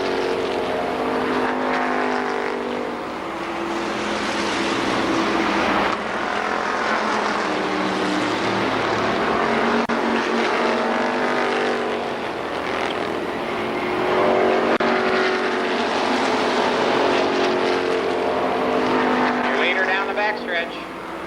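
Super late model stock cars roar around the Columbus Motor Speedway oval in a feature race, a dense, continuous engine drone that rises and falls as the pack passes, with a track announcer calling the action over it.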